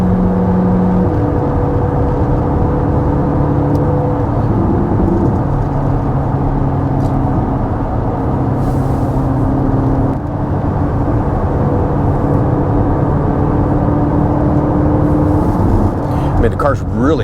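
A 2026 Corvette ZR1 cruising on the road at around 3,200 RPM gives a loud, constant engine drone and whir from inside the cabin, with people talking over it throughout.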